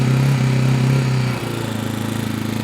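A Janus 250 motorcycle engine idles steadily with the choke set halfway, a close, loud, even low thrum that dips slightly in pitch and level partway through and then settles into a steady pulsing idle.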